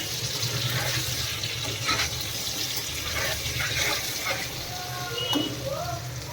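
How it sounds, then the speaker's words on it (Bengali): Heavy rain pours outside beneath dark monsoon-season clouds during a festival day, a steady dense wash of falling water with no breaks, with scattered faint voices and other faint noises mixed in throughout. "প্রচুর জল হচ্ছে প্রচুর বাইরে বাইরে দেখাচ্ছি তারা বিশাল পরিমাণে জল হচ্ছে"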